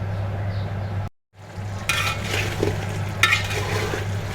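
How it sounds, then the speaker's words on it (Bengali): Chicken pieces for biryani stirred and fried in a pan, giving a steady close sizzle with bursts of scraping as they are turned, over a constant low hum, with one brief silent gap. "এখন আমি এটা নেড়ে চেড়ে ভালো করে কষিয়ে নেব।"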